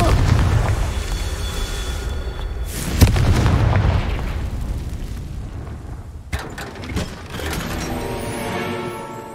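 Booming Confringo spell blasts in Hogwarts Legacy, with a sharp explosive crack near the middle and another later, each followed by rumbling debris and clatter over a continuous low game ambience.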